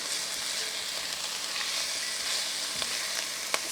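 Garden-fresh garlic and serrano peppers fry in a pan with a steady, close, bright sizzle and a few faint stirring clicks, no voices present.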